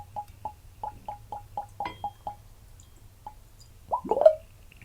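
Tamnavulin Tempranillo Cask whisky poured from a bottle into a glass, a quiet series of rhythmic glugging plops ending in a brief louder gurgle.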